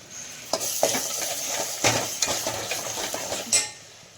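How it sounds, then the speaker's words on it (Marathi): Misal masala fries with salt in oil in a pan, a soft sizzle under repeated clinks and scrapes of a spoon stirring against the pan, close by, with no talk. "आता हे परतून घ्यायचं आहे व्यवस्थित"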